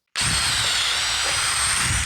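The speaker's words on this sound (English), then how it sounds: "I like to just pre-drill these" Power drill pre-drilling holes in wooden skis glued up for a chair backrest, a loud steady high-pitched whine running continuously for about two seconds, close up with no talking.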